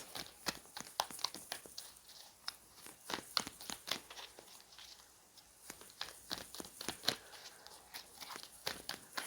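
Tarot cards being shuffled by hand, a rapid series of crisp riffling and snapping bursts in uneven rhythm, close and fairly quiet, with no talking.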